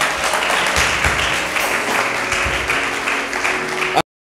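Church congregation applauding during a French-language worship service, a dense, steady wash of clapping lasting about four seconds before cutting off abruptly.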